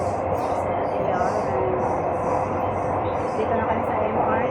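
A Singapore MRT train rolling along, giving a steady, loud, broadband rumble and rattle that holds at an even level for the whole stretch.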